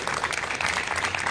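An audience at a public event claps briefly, a steady burst of applause with no talking over it.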